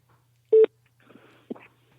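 A telephone number being dialed: a short burst of keypad tones followed by a lone tone about a second later, quiet faint rustle between, otherwise near silence.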